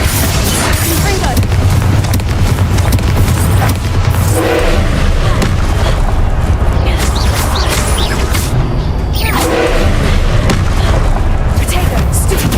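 A Confringo explosion spell in Hogwarts Legacy booms amid a loud, dense wash of continuous game combat noise, with other spell effects and voices mixed in.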